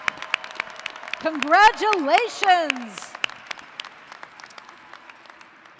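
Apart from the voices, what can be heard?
applause for doctoral, law and medical degree candidates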